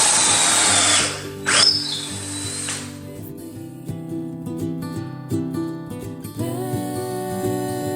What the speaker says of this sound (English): I wanted to pre-drill these holes that I'm gonna use with the pocket hole screws